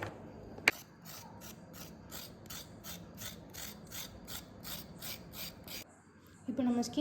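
Carrot skin being scraped off with a peeler, a quick regular run of rasping strokes close to the microphone, ending with a knock and some louder handling.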